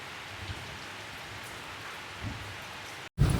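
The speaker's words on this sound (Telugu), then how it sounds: "రోజైతే ఫుల్గా వర్షం కురుస్తూ ఉంది" Heavy rain pours steadily through a forest, a dense even hiss for about three seconds that cuts out briefly and then returns louder and closer.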